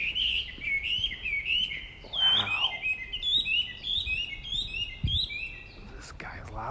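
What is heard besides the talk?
warbler singing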